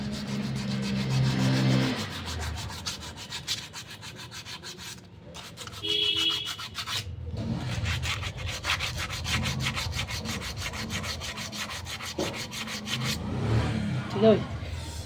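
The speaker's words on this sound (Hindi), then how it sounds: "इस तरीके से करके इस ड्रम को हमने घिस लेना है।" Sandpaper scrubbing the inside of a TVS Ntorq BS6 scooter clutch drum in a repair workshop, a steady, close, gritty rubbing that runs on with short breaks and a few clanks of metal.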